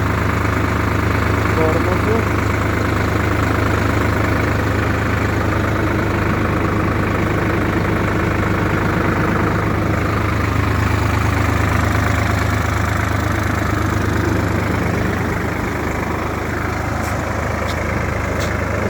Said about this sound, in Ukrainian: Трактор працює, цукерочка лежить, не шевелиться, вібрації немає